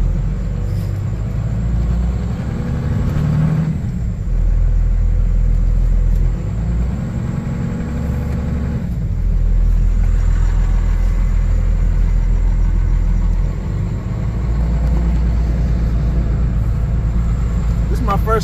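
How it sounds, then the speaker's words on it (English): A 12-valve Cummins diesel truck engine pulls steadily under load with a deep, continuous rumble and a few shifts in pitch, and people talk over it. "This is my first time driving a damn 12 valve Cummins."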